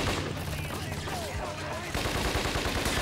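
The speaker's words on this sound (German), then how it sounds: "mit den Waffen in der Karre rumballern" Weapons firing from a car in the Scarface game during a drive-by, with rapid, loud automatic gunfire rattling continuously and growing denser toward the end, and a voice talking over it.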